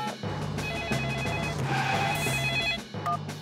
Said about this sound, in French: Je vais appeler Monsieur Boule